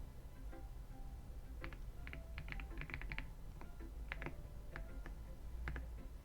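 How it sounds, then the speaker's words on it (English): Computer keyboard keys are tapped in scattered bursts of quick clicks, close and fairly quiet over a steady low room hum. "it's probably my keyboard"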